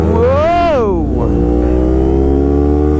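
A Kawasaki Ninja 250 sport bike revs up sharply, its pitch climbing then dropping at a gear change before settling into a steady buzzing drone, loud and close throughout.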